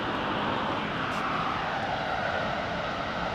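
A Turkish Airlines Boeing 777-300 jet at London Heathrow gives off a constant, dense engine roar, fairly close and steady over the brief stretch, with no speech.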